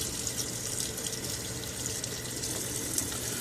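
Tap water runs steadily from a faucet to soak a synthetic shaving brush, a continuous hiss and splash at close range with no pauses.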